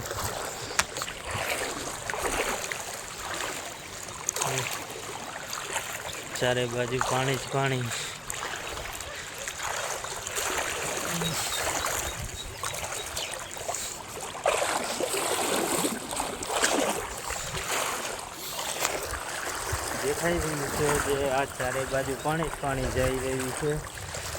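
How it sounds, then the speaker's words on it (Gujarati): Floodwater flows continuously through a flooded village, a steady nearby wash and gurgle running throughout while someone talks over it at intervals. "જે જાય છે તે પાણી આમથી આવે છે ને આ બાજુ જઈ રહ્યું છે"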